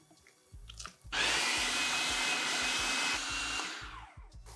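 A food processor whirs loudly and steadily for about two seconds as it blends a smooth, creamy cheese paste for a sandwich spread, with faint clicks and bumps before it starts and after it winds down.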